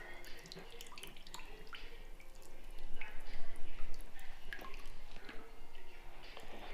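Water dripping from a freshly washed Mopar cold air intake filter set out in the sun, an irregular patter of drops and trickles, close and faint, with a voice speaking over part of it.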